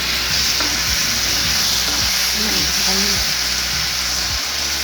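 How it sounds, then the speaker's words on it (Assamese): Garlic, green chilli and ginger paste fry in hot oil with a loud, steady, close sizzle, broken by occasional stirring scrapes and no talk. "এইখিনি ধুনীয়াকৈ ভাজি ল'ব।"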